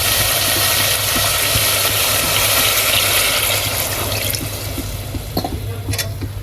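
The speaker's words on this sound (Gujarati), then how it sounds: "તો હવે આપણે નાખી દેવું પાણી।" Water is poured into a pan of spinach-style vegetables cooking in oil, making a loud, continuous gushing and bubbling rush with a steady low hum beneath, easing toward the end.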